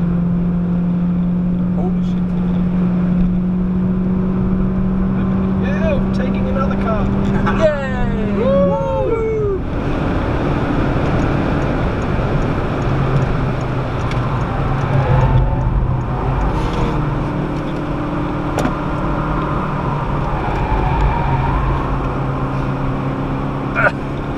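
A Citroën DS3 laps the Nürburgring Nordschleife, its engine loud and close, pitch climbing and dropping sharply through gear changes and corners, with some voices in the background.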